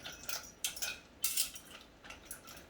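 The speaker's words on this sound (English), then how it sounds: "as it gets hot, I'm going to stir it with my whisk" A metal whisk stirs chocolate in a pot heating on the stove, making repeated light clinks and scrapes against the metal in uneven strokes, close up and fairly quiet, with no talking.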